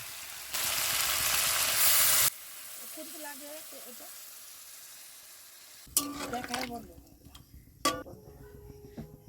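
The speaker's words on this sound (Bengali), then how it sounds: "এখন আমরা পরিমাণ মতো জল দিয়ে নেব।" Oil and spice paste sizzle loudly in a pan as water is poured in for a Bengali dudh korola (bitter gourd in milk) dish, a long steady hiss that cuts off, followed by quieter scraping and a few sharp clanks of stirring.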